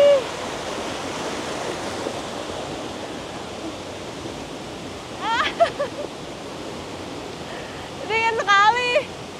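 Yeh Ho waterfall at Jatiluwih, Bali, roaring as a steady broadband rush of falling water throughout, with brief high squeals and cheerful voices cutting in over it twice.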